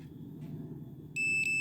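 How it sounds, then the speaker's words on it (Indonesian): A multimeter in continuity mode beeps while testing the fuse of a Maspion fan: a sudden, loud, steady high beep starts after a quiet hum and holds for about half a second with a tiny dip. "kalau normal itu bunyi, menandakan masih bagus"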